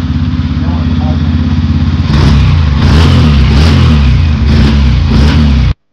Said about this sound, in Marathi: गाडी तर पहिलंच याच्यात चालू झाली.